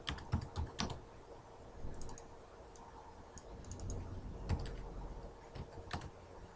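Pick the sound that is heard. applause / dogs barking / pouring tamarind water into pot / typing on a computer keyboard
typing on a computer keyboard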